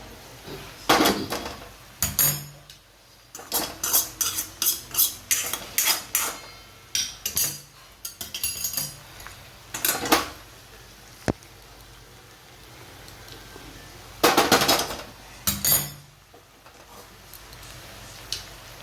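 Spoon or ladle stirring okra and potatoes in a metal pot, a run of clinking, scraping knocks in irregular bursts, fairly close and moderately loud, with short pauses between them.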